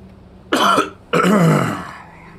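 A person gives two short, harsh coughs close to the mic, separated by a brief pause, the second rougher and longer as it trails off.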